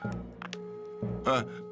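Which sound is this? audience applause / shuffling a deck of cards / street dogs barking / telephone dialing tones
telephone dialing tones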